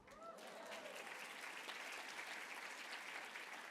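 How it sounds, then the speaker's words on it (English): Guests at an annual award gala applaud in a steady, dense wash of clapping, recorded at low level and somewhat distant, with a brief voice at the very start. "Thank you for the applause"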